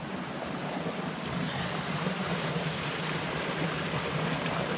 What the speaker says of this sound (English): Water's coming around here.